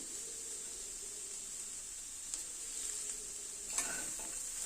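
Crushed bori powder stirred into a pan of spinach, potato and cauliflower, a steady quiet sizzle with a few soft scraping stirs near the end, close by with no voices.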